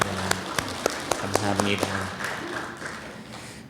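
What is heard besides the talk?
congregation applauding in church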